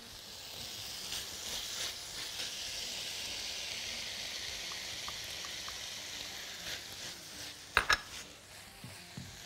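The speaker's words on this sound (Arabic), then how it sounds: "اقلب على اللحمه، احط لها بقى البصل" Onion frying with meat in a pan, a soft steady sizzle with stirring, and a couple of sharp utensil knocks near the end, with no speech.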